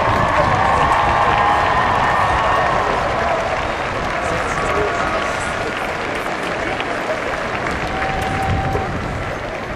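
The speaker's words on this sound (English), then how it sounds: "I want the graduates to stand and applaud all the loved ones who are in this stadium today" A large commencement crowd of graduates claps in an open stadium, a broad, sustained wash of applause with scattered cheers, while a voice carries faintly over the noise.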